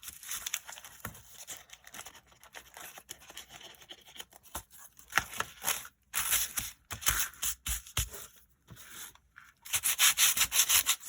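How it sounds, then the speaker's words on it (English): Sandpaper rubs across the back of tissue paper stretched in a hoop, producing close, steady scratchy strokes in bursts with brief pauses, no talking. "Sandpaper the back."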